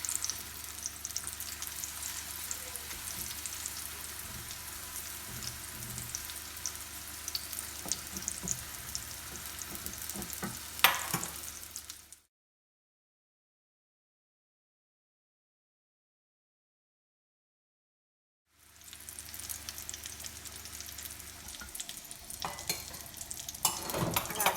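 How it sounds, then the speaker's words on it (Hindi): Parathas frying in cooking oil give a steady, close sizzle with occasional clinks of a utensil. A stretch of total silence interrupts the sound, and then the frying returns. "पराठे बन रहे हैं, साथ साथ हम कबाब भी बना रहे हैं।"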